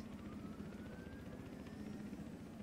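A helicopter in the video game Battlefield Hardline gives off a steady rotor thrum and engine whine, faint and continuous throughout, with no talking.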